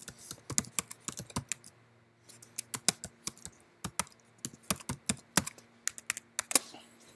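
Fingers typing on a computer keyboard in bursts of rapid, close clicks separated by short pauses, crisp and alone in a quiet room.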